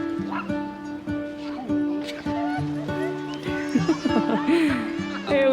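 A puppy barks in short yips and lets out high whimpers inside a moving car on the way to a ski trip, with people talking over it.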